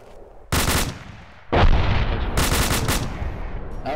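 Loud bursts of gunfire during a live firing exercise on a military range, heard as three separate rapid volleys, close and dominant, with no voices.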